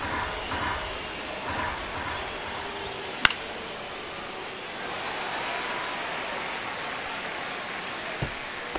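Crowd noise at a baseball game swells steadily through a tense full-count at-bat with repeated foul balls, a broad, continuous roar with a few sharp cracks, heard under no talk.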